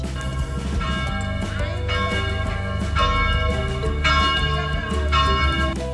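Church bells chime on the hour in a town, with rich sustained tolls overlapping and ringing steadily throughout, loud and close, with no talk.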